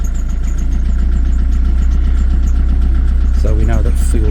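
A narrowboat diesel engine runs in a steady, close, low throb with a continuous rumble, and a person speaks briefly near the end over the engine noise.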